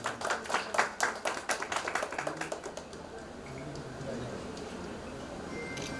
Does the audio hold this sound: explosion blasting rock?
no